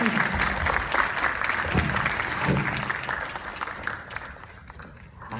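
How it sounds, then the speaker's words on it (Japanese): Audience applause at the Tokyo More Collection contest, a sustained wash of clapping from a crowd that thins and fades toward the end. "もう一度大きな拍手をお願いいたします。"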